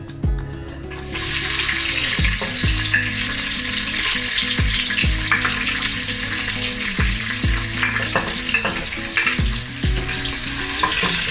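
Sliced onion and whole spices fry in a hot pan for bhindi chicken, with a continuous loud sizzle broken by repeated scraping stirs and occasional thuds, and no voices.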